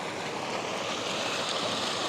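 Fast, cold river rushing steadily, a dense broadband roar of flowing water that stays loud and even throughout with no voices.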